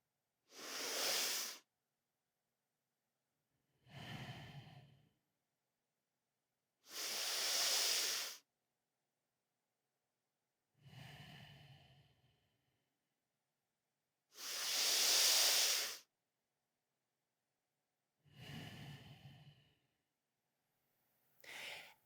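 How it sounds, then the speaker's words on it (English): Slow, deep breathing during a guided breathing exercise, with long airy inhales alternating with softer exhales, about seven breaths in an even, unhurried rhythm separated by silence. "Now breathe with me."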